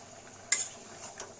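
Spices for a chicken curry are stirred and fried in a pan: a quick, faint scrape of the spoon over a soft background sizzle, brief and quiet.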